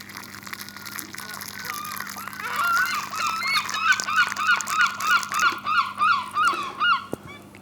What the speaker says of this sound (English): Lots of gulls around us,